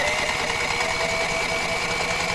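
TIG welder running on straight argon gives a steady, close buzzing hum with a constant tone throughout, without pauses or talking.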